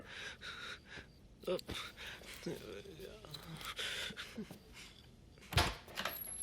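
An indoor door is opened at night, with a couple of sharp knocks and thumps of the door moving, plus gasps and breathing from people close by.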